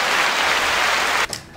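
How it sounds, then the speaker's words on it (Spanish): Steady applause from a crowd fills the space, then cuts off abruptly near the end, leaving a few faint claps and quiet room noise. "Aplausos."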